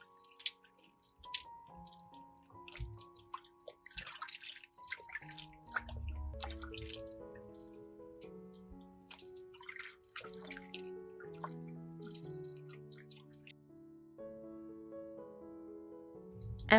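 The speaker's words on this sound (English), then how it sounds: "Then gently wash each banana to clean the outer skin." Water sloshes and drips in a bowl with irregular splashes and soft trickles, close and fairly quiet.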